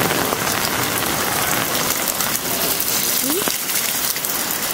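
Heavy rain during a Hong Kong thunderstorm, a loud, dense, continuous hiss of drops pounding surfaces, steady throughout with no let-up.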